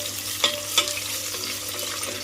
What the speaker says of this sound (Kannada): ಆನಿಯನ್ಸ್ ಅಂಡ್ ಚಿಲ್ಲಿ ಏನು ಕಟ್ ಮಾಡಿ ಇಟ್ಕೊಂಡಿದ್ದು ಅದನ್ನು ಹಾಕಿ ಫ್ರೈ ಮಾಡೋಣ.